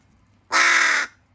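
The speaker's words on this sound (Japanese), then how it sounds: "さすがなんかやっぱカラスですね" A crow being rehabilitated for a leg injury gives one single caw, close and clear, lasting about half a second. Quiet background surrounds it.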